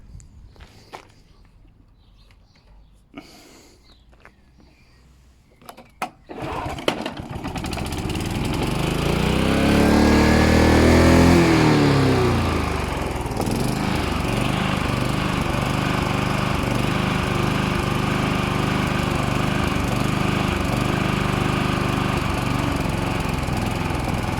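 A few clicks and knocks, then a petrol lawn mower engine starts and roars up loud, its pitch rising and falling as it surges unevenly, the engine hunting.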